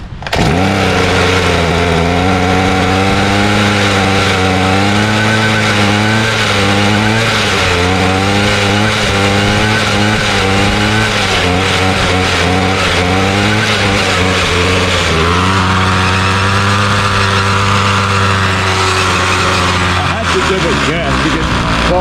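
Gas string trimmer engine running steadily after a cold start on half choke, loud and close, a buzzy drone that wavers in pitch and steps down near the end as if about to stall.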